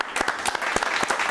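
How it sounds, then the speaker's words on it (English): Audience applause for the R&B group MacFour at a live R&B showcase, a dense burst of clapping with sharp individual claps standing out, steady and fairly close throughout. "Good round of applause for MacFour."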